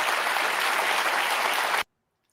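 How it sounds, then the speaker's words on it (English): A studio audience claps steadily for about two seconds, a dense broadband patter of many hands, then stops abruptly and leaves silence. "Why are they clapping?"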